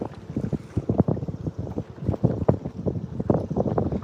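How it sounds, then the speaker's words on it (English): A cabin cruiser passes on the water, heard as a rough, fluttering rumble of engine and wash mixed with heavy wind buffeting on the microphone, fairly close and steady throughout. "There comes a nice cabin cruiser."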